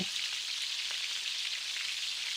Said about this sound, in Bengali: এইভাবে দু পিঠই লাল করে ভেজে নেব।